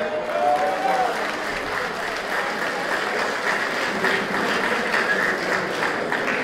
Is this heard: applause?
yes